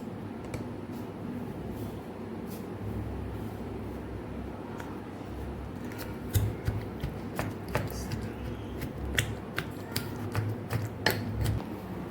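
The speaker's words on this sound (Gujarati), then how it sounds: "તો થોડું ખાંડી લેશું અને આપણે દરદરું ખાંડવાનું છે" Onion-garlic chutney with salt being coarsely pounded by hand, producing a run of sharp, irregular thuds and crunches that grow louder and more frequent toward the end, over a steady low background hum.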